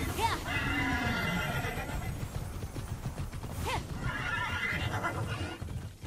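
In the video game Immortals Fenyx Rising, a horse neighs loudly a couple of times while its hooves clip-clop steadily beneath, close and continuous, mixed with other game sounds.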